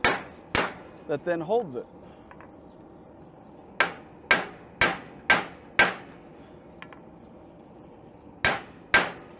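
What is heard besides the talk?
hammering a piece of steel into a bending jig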